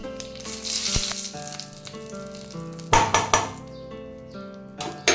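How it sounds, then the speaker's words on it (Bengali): Cumin and chilli sizzle in hot oil in a pan, a close crackling fry punctuated by a few metallic scrapes and clinks of stirring, with no talk. "ভেজে নিই জিরে লঙ্কাটা"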